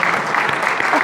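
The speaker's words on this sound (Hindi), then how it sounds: "थोड़ी तालियां तो होनी चाहिए स्टॉक मार्केट के लिए।" Short burst of steady applause from a crowd cheering the stock market, dense and continuous, filling the room at close range.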